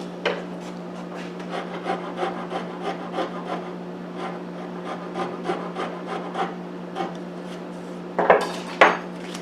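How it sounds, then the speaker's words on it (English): A file takes an aggressive cut while shaping a wooden guitar neck: steady rhythmic rasping strokes at close range, with a couple of sharper scraping knocks near the end over a constant low hum. "I'll switch over to this file right here, which takes a pretty aggressive cut, and but it leaves a smoother finish."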